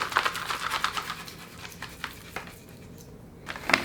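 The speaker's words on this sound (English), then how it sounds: "Just a quick mix." Sausage meat mixture being stirred quickly in a bowl, wet squelching and scraping with light clinks of the utensil, close and brisk for a few seconds.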